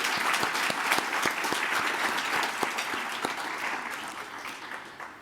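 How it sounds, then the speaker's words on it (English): An awards-ceremony audience applauds the finalists, a sustained patter of many hands with a few sharp, distinct claps standing out near the listener, gradually thinning toward the end. "Can we please give a round of applause to the finalists?"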